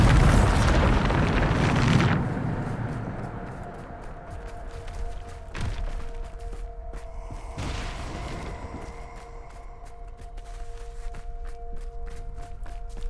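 A Bombarda spell in Hogwarts Legacy lets off a loud, rumbling explosion that fades over about two seconds. A few sharp impacts and a steady hum follow.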